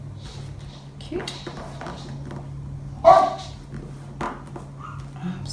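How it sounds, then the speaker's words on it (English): A pet dog barks somewhere in a home crafting space, one sharp bark rising out of steady room hum midway through, with a few quieter yips around it and a brief voice speaking nearby. "I'm sorry about the barking."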